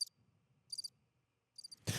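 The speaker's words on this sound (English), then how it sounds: "Silent crickets." Three short bursts of high, rapid cricket chirping stand alone against near silence, followed by a louder broadband rush at the very end.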